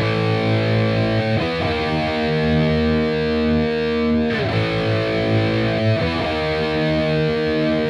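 Heavily distorted electric guitar plays a section of a song, sustained power chords shifting every second or two with a short slide between them, loud, close and alone.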